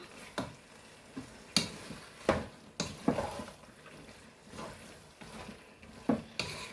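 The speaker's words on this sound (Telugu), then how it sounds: "వేసి కలుపుకుందామండి కొంచెము" Kerala-style chicken chukka with coriander and curry leaves is stirred in a hot pan, a spoon knocking and scraping in irregular strokes over a soft frying sizzle, close and clear.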